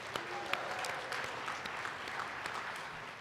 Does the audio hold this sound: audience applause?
yes